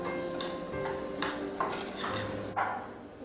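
A spoon stirs salt and packed brown sugar in a bowl, giving soft scraping strokes and a few light clinks against the side, close by and alone.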